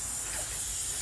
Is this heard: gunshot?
no